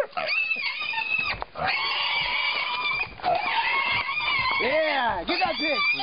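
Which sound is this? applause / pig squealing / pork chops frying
pig squealing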